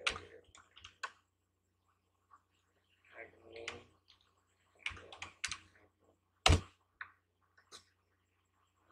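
Keys on a computer keyboard are typed in short clustered bursts while entering a password into a TP-Link Wi-Fi router's admin setup page. The clicks are close and fairly faint, with one sharper, louder keystroke near the end.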